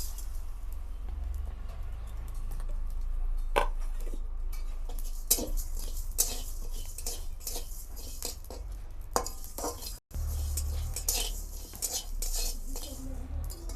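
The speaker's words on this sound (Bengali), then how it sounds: "তো এই শুকনো খোলায় আমি এখন এই সব মশলাগুলো ভেজে নেব।" Whole spices and dried chillies dry-roasted in an empty pan, with repeated scraping and clinking of a metal spatula against the pan in irregular strokes, close and steady throughout.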